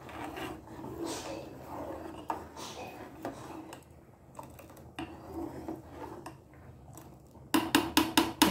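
A spoon stirs moong dal payasam with ground coconut in a pot, giving soft irregular scraping and rubbing strokes, close and moderately quiet, with a few sharper clinks at the end.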